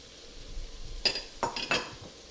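Metal spoon stirring lasagna meat sauce with its juices in a pan: a few quick scraping, clinking strokes close by over a faint background hiss, no talking.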